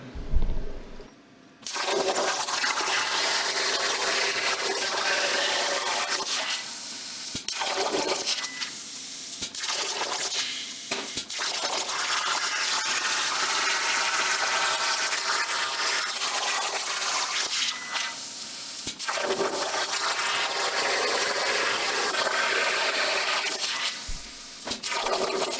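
A Langmuir Crossfire XL plasma table cuts with a loud, steady hiss and roar that runs in long sustained passes broken by short pauses, starting after a brief quiet moment.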